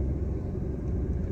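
Low, steady engine rumble from a car held at half clutch while stuck on a speed breaker, a continuous close vibration with no pauses and no talking.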